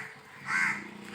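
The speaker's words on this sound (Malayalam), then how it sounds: "അതേപോലെ കാക്കകൾ കണ്ടില്ലേ." A crow caws once at mid-distance in an outdoor spot where crows gather to be fed, one harsh call over quiet background.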